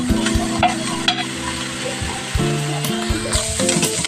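Fresh mikki noodle dish ingredients fry in a little oil with a steady close sizzle, partly buried under continuous background music.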